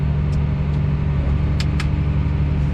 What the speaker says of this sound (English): The motor is really loud.